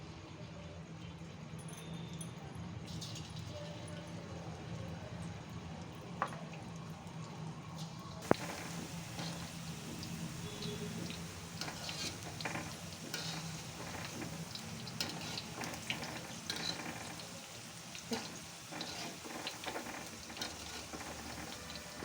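Okra pakodi fries in hot oil in a kadai on the stove, a steady soft sizzle and bubbling with occasional faint clinks, alone and fairly quiet.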